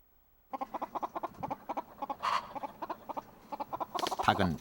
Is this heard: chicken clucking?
yes